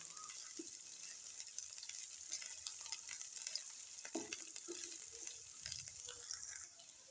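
Spices sizzle and crackle steadily in a hot pan for a mixed vegetable potato, pea and carrot dish, with occasional soft scraping as they're stirred, quiet and close with no voices.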